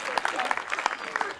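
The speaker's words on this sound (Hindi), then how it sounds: "ऐसे नहीं पूरा सदन ताली बजा के बताएं कि साउंड अच्छा है" Audience clapping in a hall during a Hindi comic poetry recital, a steady patter of many hands at moderate loudness with no clear talking over it.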